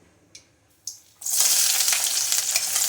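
Small shallots and garlic cloves drop into hot oil for a fish curry: two short clunks, then a sudden loud, sustained hissing sizzle that continues steadily to the end.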